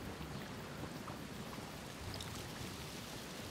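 Rain in the side-scrolling strategy game Kingdom, a constant dense hiss of falling water with a low rumble underneath, steady and unbroken with no voices.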